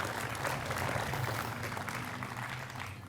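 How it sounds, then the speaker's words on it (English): Applause from a crowd at the grand opening of Miamisburg Riverfront Park, a moderately faint, steady wash of clapping that tapers slightly toward the end. "Let's give Stephen a round of applause"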